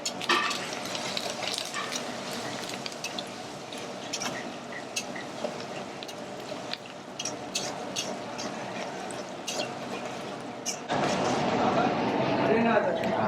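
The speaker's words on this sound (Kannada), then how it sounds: "ನೋಡಿ, ಇಷ್ಟು ಮಾತ್ರ ಫ್ರೈ ಮಾಡ್ಕೊಂಡು ಸ್ಟವ್ ಆಫ್ ಮಾಡ್ಕೊಂಡಿದ್ದಾರೆ" Cashews frying for a curd rice tempering, a soft continuous sizzle with scattered utensil clicks and stirring taps against the pan, growing slightly louder and fuller toward the end.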